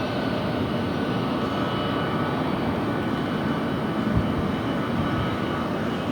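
Pratt & Whitney jet engines on airliners taking off at LAX, a steady loud broadband roar that holds throughout with no talking.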